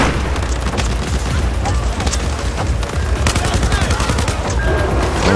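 Battlefield 4 combat roars with dense, continuous gunfire and booming explosions, loud and unbroken from start to finish, with sharp bursts of fire layered over a heavy low rumble.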